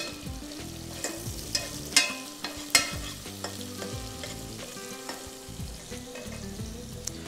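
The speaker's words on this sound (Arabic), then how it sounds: "هضيف الأول البصل وهدي تقليبة" Onions sizzle steadily in a hot pan while a utensil scrapes and stirs, with a few sharper clinks against the metal; no voices.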